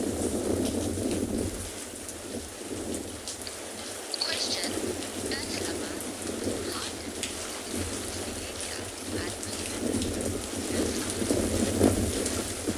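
Steady rain with rumbles of thunder falling over a penguin beach, a continuous loud wash of rainfall with low rolling thunder beneath it throughout.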